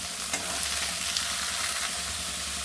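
Onion stalks, peas, chopped garlic and chopped chili fry in a pan, giving a loud, continuous close-up sizzle with faint stirring ticks and no talking.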